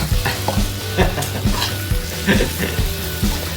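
Chili stir-fried in a pan for a basil stir-fry of field rat, loud close sizzling with repeated rhythmic scrapes and knocks of a spatula against the pan.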